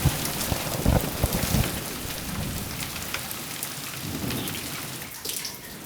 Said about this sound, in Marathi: काही क्षणात धुवाधार पावसाला सुरुवात झाली